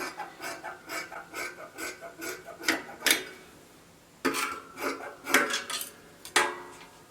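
Scissors cutting through fabric, a series of close, crisp rhythmic snips and slicing strokes, with a pause midway before the cutting resumes.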